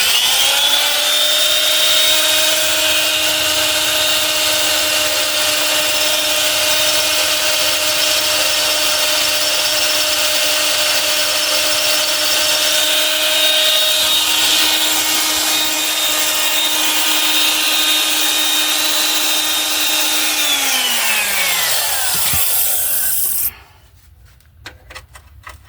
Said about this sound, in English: So I'm just gonna drill these holes again in